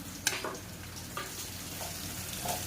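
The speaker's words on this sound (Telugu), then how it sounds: "ఇది బ్రౌన్ కలర్ వచ్చేంత వరకు ఆనియన్స్ బాగా మనం ఫ్రై చేద్దాం వేగిద్దాం" Chopped onions frying in a pan for a tomato curry, a steady soft sizzle with a few brief clinks of stirring, close and alone without talk.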